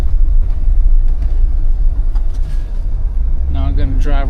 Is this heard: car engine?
yes